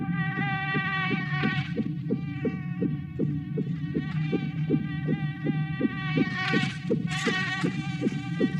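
Mosquitoes buzz in a climate change advertisement: a steady, whining drone with regular throbbing pulses, swelling brighter near the end, with no talking.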